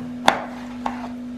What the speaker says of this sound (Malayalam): അതിനുശേഷം ചെറുനാരങ്ങ ഇങ്ങനെ രണ്ടായിട്ട് മുറിക്കുക.